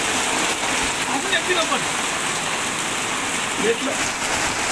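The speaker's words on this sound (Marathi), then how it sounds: "पाऊस तर लई यायला लागलाय" Sudden heavy rain at night roars as a dense, even hiss, with a few faint voices murmuring underneath the downpour.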